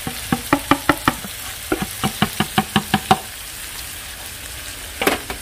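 Spices go into fried fish soup cooking in a pan, with a low sizzling hiss under a run of about a dozen evenly spaced knocks, then a quieter stretch and a final clatter.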